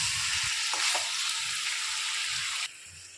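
Ginger garlic paste frying in a pan for chicken kosha, a close, steady sizzle with a few stirring scrapes, dropping suddenly in level near the end.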